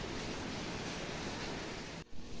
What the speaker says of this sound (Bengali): শব্দ হচ্ছে, বৃষ্টি বৃষ্টি পড়তেছে প্রচুর।